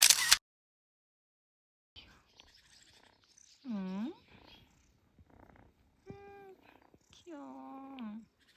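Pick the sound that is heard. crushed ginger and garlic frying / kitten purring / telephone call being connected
kitten purring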